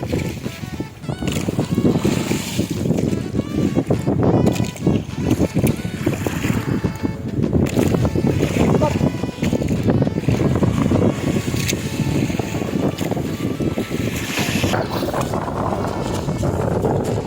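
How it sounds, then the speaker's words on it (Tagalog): Strong wind roars steadily into the microphone over a boat on open sea off Palawan, loud and buffeting throughout, with a voice faintly under it. "Grabe, sobrang lakas talaga ng hangin."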